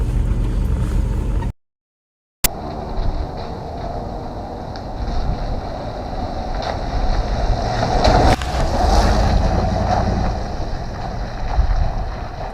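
A Land Rover 90 with a V8 drives down a bumpy, muddy farm road, its low rumble and jolting rattles heavy with wind buffeting, cut by a sudden dropout of about a second.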